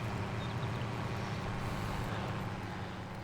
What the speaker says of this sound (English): push out a little bit more so that we're not getting so much tractor noise